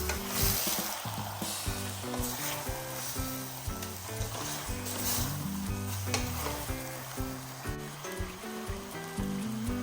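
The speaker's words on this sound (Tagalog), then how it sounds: "At ipagpapatuloy ko lamang ang paghahalo din ng bahagya." Salmon belly sautéing in a pan with salt and pepper while being stirred, a steady close sizzle and frying hiss throughout, with light stirring scrapes and music playing alongside.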